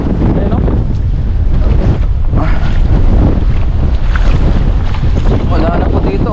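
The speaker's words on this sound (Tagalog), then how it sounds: "sobrang lakas ng hangin" Strong wind roars across the sea around a fishing boat, a loud, constant buffeting rush against the microphone with the wash of water beneath it.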